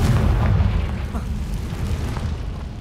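Confringo fire spell explosion in Hogwarts Legacy, a deep rumbling boom at the start that rolls off into a low, fading roar.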